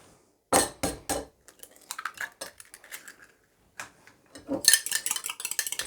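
Coconut sponge batter mixed in a bowl, a utensil scraping and clinking against the sides in irregular close bursts with short pauses between strokes.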